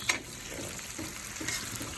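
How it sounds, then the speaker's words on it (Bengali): Fresh fish fins frying in a pan, a steady faint sizzle and crackle with occasional stirring scrapes, no voices. "এখন পাখনাগুলো সবগুলো ভাজি করব"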